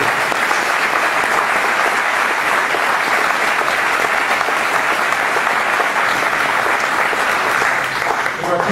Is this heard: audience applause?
yes